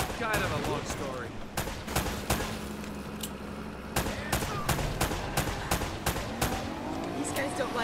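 Rapid gunfire from an Uncharted: Drake's Fortune firefight on PS4, sharp cracks and bursts repeating throughout over a dense, noisy battle backdrop with engine-like rumble, loud and continuous with no speech.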